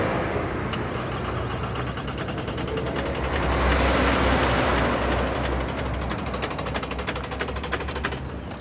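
A van engine idles with a rapid, metallic rattling clatter, steady and harsh, close up and continuous for several seconds.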